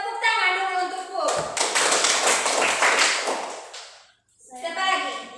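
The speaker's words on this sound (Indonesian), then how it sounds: "Tepuk tangan dulu untuk Put." Students in a classroom clap for a classmate in one dense burst lasting a few seconds, with children's voices speaking before and after.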